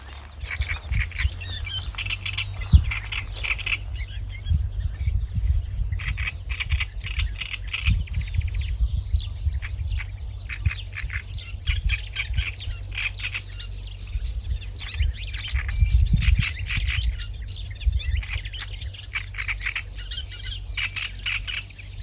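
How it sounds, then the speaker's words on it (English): Great reed warbler singing on Lesvos, repeated harsh, croaking chattering phrases in rhythmic bursts, fairly close and clear over a steady low background hum, with occasional other birds faintly behind. "Also, I heard the great reed warbler."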